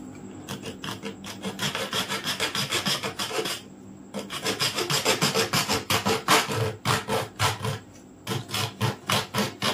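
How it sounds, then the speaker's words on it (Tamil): A hand saw cuts a diagonal 45-degree line through material for a DIY aquarium sand waterfall, with loud, close, rhythmic back-and-forth rasping strokes and two short pauses. "இந்த டயகனலில் மார்க் பண்ணிவிட்டு 45 டிகிரியில் இதை கட் பண்ணணும்"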